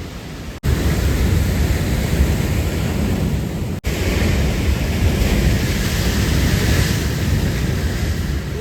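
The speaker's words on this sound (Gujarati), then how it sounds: "કેટલું પાણી ઉડે જુઓ" Water sprays and splashes in a loud, steady broadband wash, close and continuous, cut by two abrupt brief breaks, with no voices.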